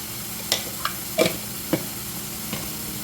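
Masala frying in a pan with turmeric going in, a soft continuous sizzle broken by a few sharp scrapes and taps of a spoon stirring against the pan.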